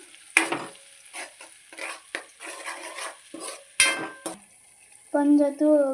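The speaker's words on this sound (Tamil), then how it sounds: "வெங்காயம் பூண்டு அரைச்சது போட்டுக்கலாம். இப்போ கிண்டிக்கலாம்." Ground onion and garlic paste stirred in a hot pan for fish curry, with sizzling and scraping strokes of a spoon up close, mixed with brief bursts of a voice and a clattering clink near the end.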